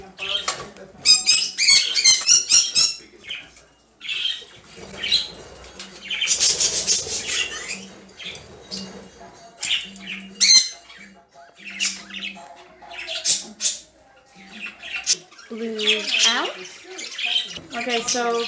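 Pet birds squawk and flap their wings in bursts close by, with people talking intermittently throughout.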